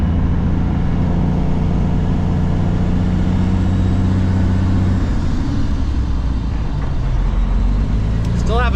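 A truck with a rebuilt CAT C13 diesel engine drives along, its deep engine rumble steady and loud throughout, shifting in tone about halfway as it changes gear, with a brief chirp of another sound near the end.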